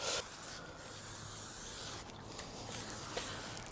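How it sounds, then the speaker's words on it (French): Butter spray hisses in several soft, short bursts onto a bacon explosion being prepared for a Pit Boss Kamado K24 barbecue, close and fairly faint. "je vais mettre un petit peu de beurre en spray pour aider le rub à coller"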